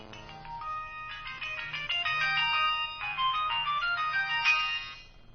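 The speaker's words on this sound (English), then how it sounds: "It's whatever stock ringtone comes with these new Nokias." A stock ringtone on a new Nokia phone plays a bright synthetic melody of quick repeated tones over a soft rhythmic low pulse, fairly loud and alone without talk.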